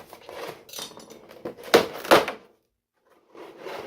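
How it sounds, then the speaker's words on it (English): Blade slicing through tape on the sides of a cardboard box holding a 1/8 scale Toyworks figure, a few quick rasping scrapes and cuts close up, then a brief pause and soft handling. "there's a little bit of tape on the sides, so we're gonna cut that"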